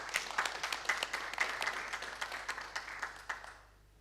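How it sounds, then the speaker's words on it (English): An audience at a volunteering event applauds with quick, scattered claps that fade out near the end, fairly faint and with no voices. "A huge applause, please"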